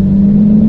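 Loud, close engine drone with a steady low pitch, a Ferrari F8 Tributo held at full throttle on a racing circuit for a brief moment.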